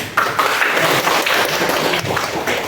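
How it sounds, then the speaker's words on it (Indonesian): Classroom of students applauding after a question in a vocational lesson, a dense, continuous burst of clapping lasting under three seconds, close and loud with no talking. "Tepuk tangan dulu dong."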